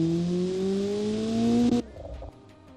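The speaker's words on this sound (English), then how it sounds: "Oh, little burbles out of it too." A simulated Honda K24 engine revs steadily with a rising tone, then cuts off abruptly, leaving a few soft popping burbles and crackles trailing behind.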